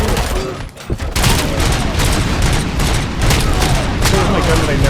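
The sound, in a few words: gunfire from a gun in the video game RoboCop: Rogue City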